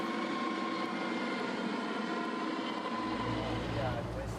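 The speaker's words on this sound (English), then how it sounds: "The engine is still struggling." The struggling outboard engine of a crowded migrant dinghy crossing the English Channel drones steadily at a distance over wind and water. A low rumble swells in near the end.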